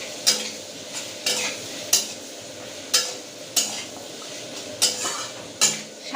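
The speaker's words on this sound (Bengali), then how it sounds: "দিয়ে একটু তেলে হালকা নাড়িয়ে নেব।" Onions are stirred lightly in oil in a pan for egg korma. About eight evenly spaced spatula scrapes clack against the pan over a low sizzle, close and loud, with no voices.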